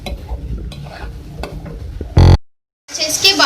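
Boiled beef keema being stirred into softened tomatoes in a pan, a soft scraping and faint sizzle, then a short loud clatter, a brief silence, and someone talking over more stirring.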